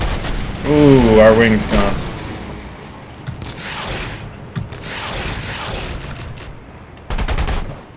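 Aircraft gunfire and bursts in the War Thunder combat game, several sharp rattling volleys and booms spread across the stretch, with someone talking over the first part.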